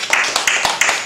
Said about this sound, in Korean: 우리 박수 한번 줍시다.